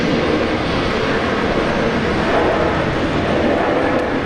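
Qantas Boeing 737 with split scimitar winglets departing Brisbane for Sydney, a loud, close, steady jet engine roar with no break.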